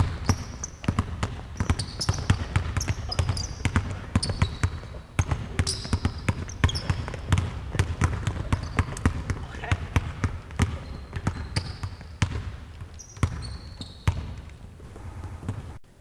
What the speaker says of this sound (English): the goal is for them to keep dribbling the basketball the entire time